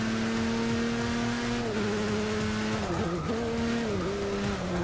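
A race car in Forza Motorsport 6 holds a steady high engine drone through a corner, its pitch dipping and climbing as it brakes and accelerates out, loud and continuous.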